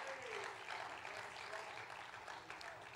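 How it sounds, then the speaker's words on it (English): A church congregation claps during a morning worship service, a dense, steady wash of many hands that stays loud and unbroken throughout. "would you give the Lord another hand clap of worship in this house of God this morning?"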